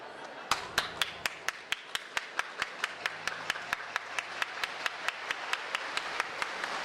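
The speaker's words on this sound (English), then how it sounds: "Mark Turner is standing on the side of the stage, clapping and cheering on the start of the performance" A single person claps steadily at the side of a stage as a show begins, about thirty evenly spaced sharp claps over a quiet background, close and fairly soft, with no audible cheering.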